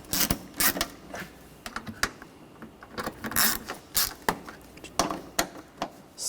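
Bolts are tightened on the brake master cylinder of a 2013-2019 Ford Escape with a ratchet, giving a quick irregular run of close clicks and metallic ticks.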